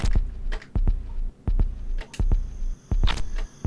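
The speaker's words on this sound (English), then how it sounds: "when the heartbeat is beating really fast" A rapid, pounding heartbeat from the Amiga game Frankenstein, looping in quick pairs of deep thumps at a steady fast pace, loud and close with no voices over it.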